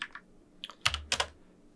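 Several quick keystrokes on a computer keyboard in short bursts, close and fairly quiet, with a few clustered clicks and a low thump; no talking.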